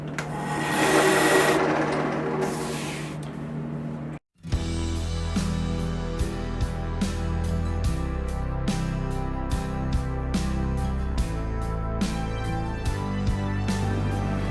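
A wood lathe turns a birch goblet, with scraping and cutting noise before a brief stop, then a steady motor hum and a rapid rhythmic ticking as the tool parts the piece off.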